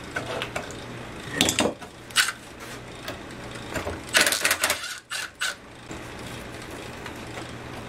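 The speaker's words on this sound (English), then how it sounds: "We hit it a couple of times with the hammer." A hammer pounds on a cheap Chinese 36cc gas scooter engine, 1E36F, giving irregular sharp metallic knocks in small clusters with pauses between, fairly close and loud over a quiet hum.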